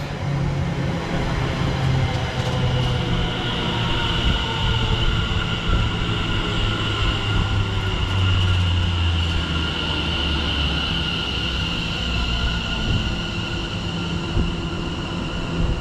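A train running on the line between Tottenham Hale and Bishops Stortford gives a steady, continuous rumble with a low hum and a wheel-on-rail hiss, heard from on board with no talking.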